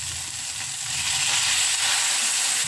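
Tofu and soy sauce sizzle steadily in a hot pan with small fish and fishballs, a dense hiss that swells slightly and stays loud, with faint scraping stirs underneath.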